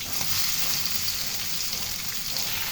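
Bitter gourd and potatoes fry in hot oil with onion and chili, a dense, steady, close sizzle that carries unbroken throughout.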